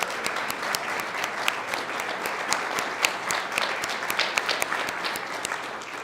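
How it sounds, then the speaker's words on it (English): Steady, dense audience applause for a singer, a full room clapping continuously and evenly throughout, with no voices over it. "let's give her a round of applause"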